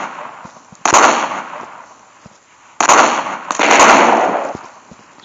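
Explosive ammunition fires from a gun in the Minecraft PE guns mod, producing two loud bursts of crackling, popping blasts separated by a short quiet gap, each decaying into a rough noisy tail, with no voices.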